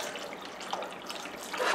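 Water is poured from close by into a pot of simmering pinto beans with chili peppers, a steady splashing trickle with a few brighter gurgles, moderately loud and alone.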